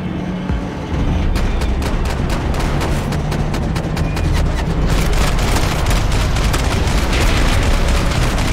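Rapid bursts of automatic gunfire and booming shots fill a firefight in the video game Max Payne 3, loud and nearly continuous with dense overlapping cracks.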